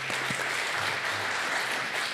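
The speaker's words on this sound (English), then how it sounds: "Let's give him a round of applause." A crowd applauds in honor of Paul Farmer at a talk, dense steady clapping filling the room evenly for the whole short stretch, fairly loud and close, with no voices over it.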